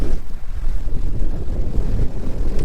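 Steady wind buffeting a microphone aboard a sailing boat at sea on the Atlantic off Portugal, a loud continuous low rumble with gusty fluctuations and no voices.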